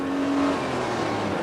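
A 1991 Mitsubishi Shogun SWB with a 3.0 V6 engine accelerates hard, giving a steady, loud, broad engine roar heard close and continuous with no talk.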